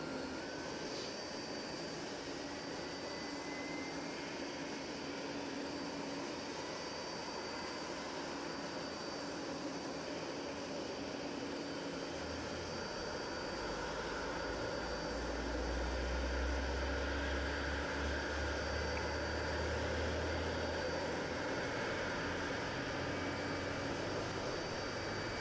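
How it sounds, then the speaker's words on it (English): A simulated Boeing 777 engine spools up in X-Plane 11, a steady broadband jet roar with a rising whine and a deeper rumble swelling midway, continuous and fairly loud with no talking. "So good engine start on engine number 1 by the looks of it."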